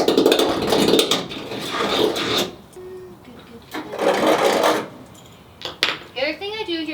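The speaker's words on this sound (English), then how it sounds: "I'm going to go ahead and deburr those few holes that I did" Metal deburring tool scraping around freshly drilled holes in the painted sheet-metal body of a Ford Transit medium-roof van, heard as bursts of rough, close grating that stop and start, with brief light metallic clinks between strokes.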